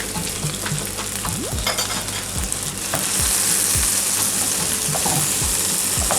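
Onion, garlic and Scotch Bonnet pepper sautéing in oil in a pan, with a steady loud sizzle and repeated scraping strokes of a spoon, close up.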